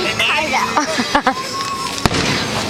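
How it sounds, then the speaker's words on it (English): Fireworks pop and boom outdoors, with one sharp loud burst standing out near the end amid crackling and a child's and adult's voices talking over the display. "Simon, do you like the fireworks?"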